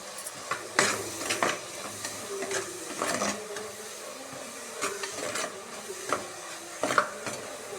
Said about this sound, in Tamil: இப்போ வந்து தக்காளி வெங்காயம் இதெல்லாம் போட்டு நல்லா வதங்கிட்டுருக்கு